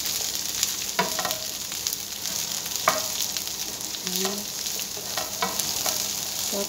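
Mixed vegetables being stir-fried in a pan for ginisang gulay, a continuous soft sizzle broken by several sharp scrapes and clinks of a spatula, close up, no one speaking.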